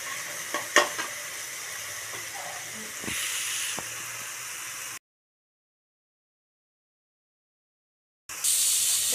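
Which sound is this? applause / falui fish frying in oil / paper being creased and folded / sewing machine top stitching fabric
falui fish frying in oil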